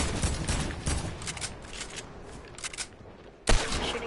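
Automatic gunfire bursts in the Fortnite Battle Royale video game, rapid repeated shots through the first seconds, then quieter, with a sharp loud burst near the end.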